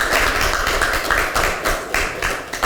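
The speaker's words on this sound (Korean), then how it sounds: "힘찬 박수 부탁드립니다" Crowd applause at a Justice Party eighth founding anniversary celebration, a steady wash of many hands clapping at close range, sustained evenly throughout with no voices over it.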